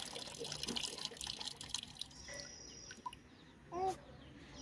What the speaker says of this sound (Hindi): बंद करो नल।